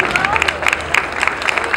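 Audience at a pageant event applauding steadily, dense continuous clapping with crowd murmur underneath, close and fairly loud throughout.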